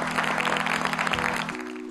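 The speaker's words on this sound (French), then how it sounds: "vous pouvez les applaudir" School audience applauding the winners of a college competition, a brief burst of clapping over a steady electronic hum, with the hum changing pitch near the end.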